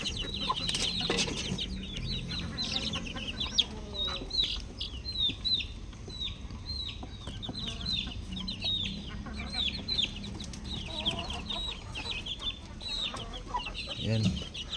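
Newly hatched chicks peep continuously in high, rapid chirps, fairly close and fairly quiet, with occasional clucks, handling rustles and soft farmyard background noise mixed in.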